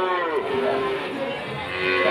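Belgian Blue cattle at a livestock market moo in a long, drawn-out low call that holds steady under a busy crowd murmur.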